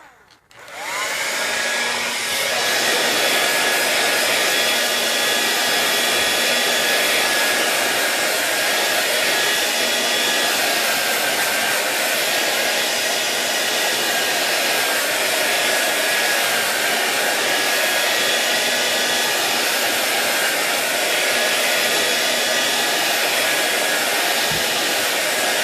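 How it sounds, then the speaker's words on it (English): A blow dryer runs steadily and loudly for the whole stretch, drying a mixed-media craft project, with a constant whooshing roar and no talking. "Okay, blow dryer time for a second."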